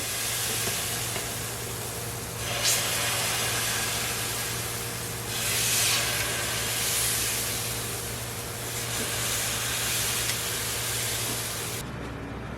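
A steady, broad sizzle fills the whole stretch, hissing evenly with slight swells and no voices, as pancakes fry in a hot pan greased with cooking spray.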